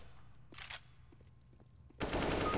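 A faint gunshot cluster in a first-person shooter sounds at a distance, then a louder, close burst of automatic fire cuts in at the end.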